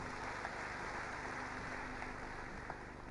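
Congregation clapping together during a church sermon, a dense, steady wash of applause that stays fairly quiet and even throughout, with no talk over it.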